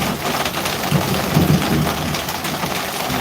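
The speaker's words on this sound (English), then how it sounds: "And the thunder rolling." Heavy rain pours steadily in a Thai village during a storm, a dense continuous hiss with a low rumble of thunder rolling underneath, close and loud throughout.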